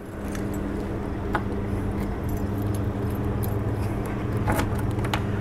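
Keys to a 1969 Chevrolet Camaro convertible restomod jingle in light, scattered clinks over a steady low hum of background noise, with no talking.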